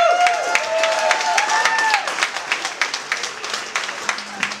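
Wedding guests applaud the bride's entrance at Roswell Mill in Roswell, Georgia, with dense, steady clapping from a crowd that thins into scattered claps toward the end, and a few faint voices mixed in.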